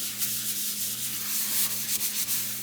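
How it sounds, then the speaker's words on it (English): A sponge scrubs a surface with The Pink Stuff cleaner, making a close, continuous rubbing and swishing sound in quick back-and-forth strokes, alone with no talk. "Literally just running the sponge around."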